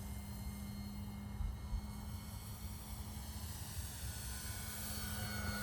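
A Night Timber X Evolution RC airplane flying at about half throttle, its electric motor giving a steady buzzing drone with a constant tonal whine, moderately loud and unbroken throughout, no talk.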